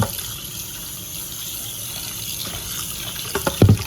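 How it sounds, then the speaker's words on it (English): Running tap water rinsing out a small bowl, a steady close gushing flow with a few clunks of the bowl near the end. "rinse it out, of course."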